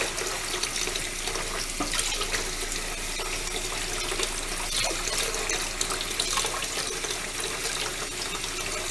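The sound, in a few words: running water while cleaning a sink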